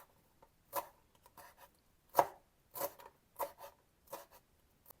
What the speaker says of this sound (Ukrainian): Нарізаю зелень. Ви знаєте, в моєму випадку це петрушка.